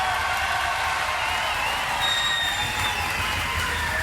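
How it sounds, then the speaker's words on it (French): A French television studio audience breaks into sustained applause mixed with cheering and whoops, a dense even roar of clapping at constant level for the whole stretch. "Sous vos applaudissements s'il vous plaît mesdames,"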